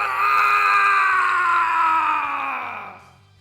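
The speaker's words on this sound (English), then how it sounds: "Trunks screams at the top of his lungs." An anime character, Trunks, screams at the top of his lungs in grief turning to rage, one long, loud, strained cry held for about three seconds before fading out.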